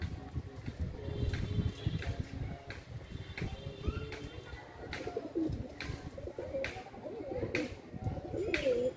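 Pigeons of a high-flying breed coo repeatedly in a steady, close chorus, with soft wing rustles and faint chirps mixed among the low, rolling calls.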